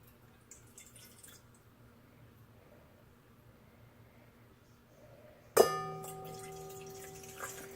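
Lukewarm water poured into a bowl for homemade white bread dough: a long quiet stretch of faint room tone, then a sudden splash and clink that settles into a steady, ringing pour.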